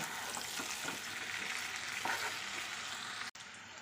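Potatoes and spices sautéing in a pan for Bengali new-potato alur dom, with a steady, close, dense sizzle and frying crackle that runs without a break, stirring scrapes mixed in, and a brief dropout near the end.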